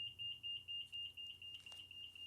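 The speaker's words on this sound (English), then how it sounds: "we have a fire alarm going off" Fire alarm beeping in quick, steady pulses of a shrill tone, heard faintly in the distance indoors with no one speaking.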